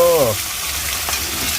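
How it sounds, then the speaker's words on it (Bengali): Pangas fish pieces sputter loudly in hot frying oil, a close, dense crackle running throughout after a brief voice at the start. "এরকম ভাবে উল্টে পাল্টে তোমরা ভালো করে ভেজে নেবে"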